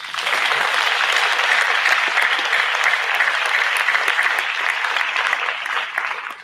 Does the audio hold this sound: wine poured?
no